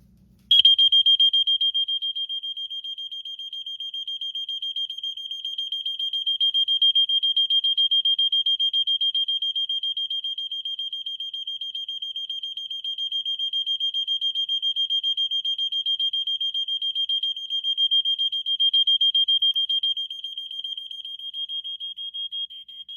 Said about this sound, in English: this just used the same piezo that every household smoke detector used at the time